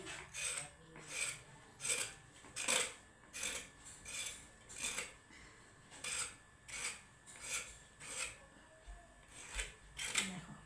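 Pointed gourds (potol) are scraped with a knife in repeated rasping strokes, about one per second, close and fairly soft, with no talking.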